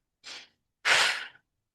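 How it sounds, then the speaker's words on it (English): Two forceful breaths through the nose during a fire breathing exercise, a short huff followed by a longer, stronger exhale, close and clear with no talking. "It's a forceful breath out."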